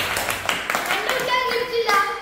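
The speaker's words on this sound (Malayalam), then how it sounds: "റിബുറിയാൻ ഒരു കൈയടി എല്ലാവരും കൊടുക്കുക" A group claps together for Ribu Riyan, with quick close hand claps in a short burst while voices speak over them.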